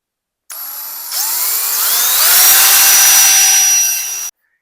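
A power drill bores a small 1/8-inch hole in a motorcycle suspension arm, its motor whine rising and steadying as the bit bites, loud and close for about four seconds with no talk.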